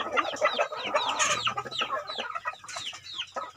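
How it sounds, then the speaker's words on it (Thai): Chickens from a crossbreed of Thai hens and a Leghorn rooster cluck and squawk in a busy, close flurry on a farm, with overlapping calls throughout. "ไก่กำลังฟักไข่นี่นี่"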